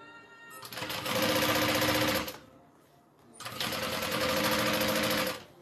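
Marine vinyl fabric runs through a sewing machine at a 5-stitch length in two fast, steady bursts of rapid needle clatter. A short pause separates the runs, and the sound is close and fairly loud.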